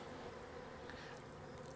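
Honey bees buzzing steadily around a nuc hive as its frames are moved into full-size equipment, a faint, continuous drone with no talk.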